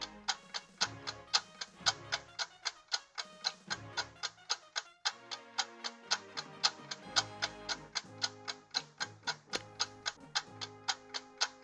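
A steady countdown-timer tick runs with a regular, even beat over a backing of sustained tones, loud and continuous for the whole stretch with no talking.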